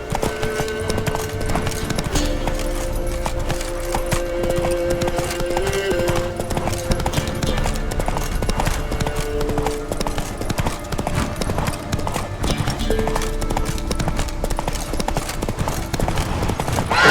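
Roach the horse's hooves clip-clopping steadily in The Witcher 3, a continuous loud rhythmic trot lasting throughout, with game music or ambience underneath.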